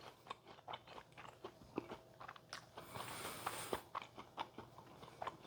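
Crisp bites and crunchy chewing of thin homemade pecan-rubbed bacon, close and fairly quiet, in a steady run of small crunches with a louder burst in the middle.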